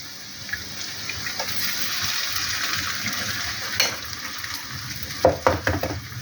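Eggs dropped one at a time into hot ghee for an egg and potato bhujia, giving a steady sizzle with a few sharper bursts of spitting near the end.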